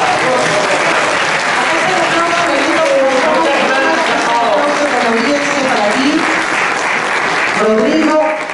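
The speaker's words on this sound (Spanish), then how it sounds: "Un fuerte voto de aplauso para todos" Loud applause from an online audience at a talk on intangible cultural heritage, steady clapping throughout with several voices speaking over it.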